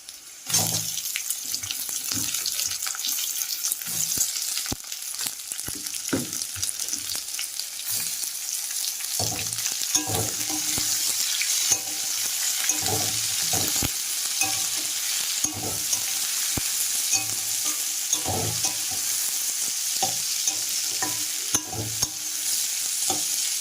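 Chopped onions fry in a pan while mutton is being cooked, giving a steady background sizzle broken by repeated stirring scrapes and clatters throughout, with no talk.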